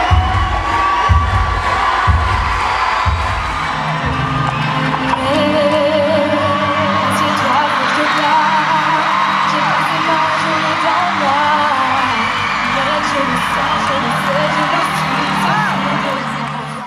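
A huge crowd of thousands screams and cheers at a concert in a Zenith arena, loud and sustained, high-pitched shrieks and whoops over a roaring mass, with a few rhythmic thuds early on.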